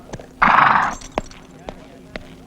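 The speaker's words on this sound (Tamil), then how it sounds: "என்னையா குதிரையில வந்திருக்க?" A horse lets out a loud, close whinny, followed by a few spaced hoofbeats clopping on hard ground, in a scene from a Tamil comedy film.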